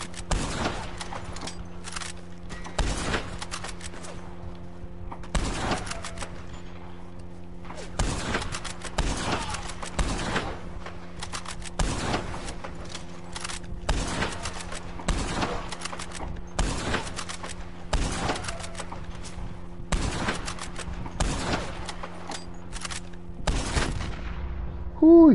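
Carcano rifle loaded with express rounds firing in the online shooter Red Dead Online: loud, sharp shots repeat every second or two across the whole stretch over a steady low droning hum, with no talking.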